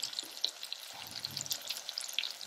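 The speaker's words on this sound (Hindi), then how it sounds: "अब इनको हम अच्छे से मिक्स करके भून लेंगे 5 मिनट के लिए।" Turmeric, garam masala and coriander powder being mixed and roasted in a pan with cabbage and peas, a quiet, even crackling sizzle with faint stirring, no voices.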